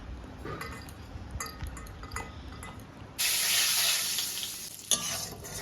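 Panch phoron spices fry in a pan with light clinks and scrapes of stirring, then a sudden loud hiss of sizzling swells up and fades, a sharp knock near the end, no voices.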